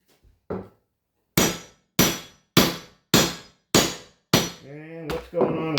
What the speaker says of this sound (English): What if I use a heavier hammer?